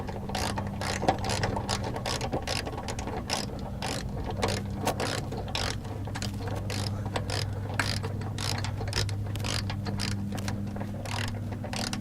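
A hand ratchet tightens a bolt on a Chevrolet rectangular side-step running board with rapid, regular clicking strokes close by, continuous for several seconds over a low background hum.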